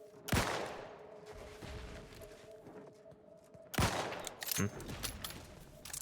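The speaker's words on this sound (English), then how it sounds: "Mortar fire! Move!" Mortar shelling in The Outer Worlds 2 game: two heavy booming impacts, one near the start and another around midway, with rumbling debris and scattered gunfire between, a voice talking faintly underneath.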